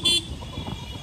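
A motorbike horn honks once, a short loud toot at the start, then fades into steady street traffic noise.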